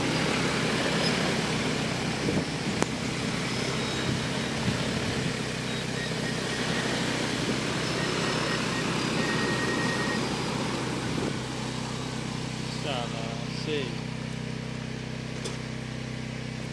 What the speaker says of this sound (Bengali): এখন দেখেন ড্রোনটা এইদিকে আসতেছে